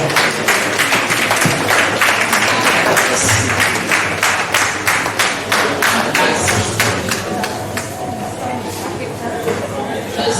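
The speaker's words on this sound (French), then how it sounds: "Merci pour les applaudissements" A seated audience at an astrology award and consecration ceremony applauds, dense clapping that holds strong for several seconds then gradually thins and fades toward the end.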